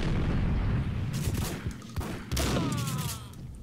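Heavy, rumbling bursts of gunfire in the video game Max Payne, loud and continuous with a few sharper cracks and a dense low boom underneath throughout.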